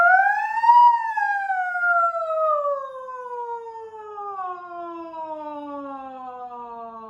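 A single singer's voice rises briefly, then glides slowly downward in one long, smooth swoop, imitating a siren. Clear and close, with no other sound.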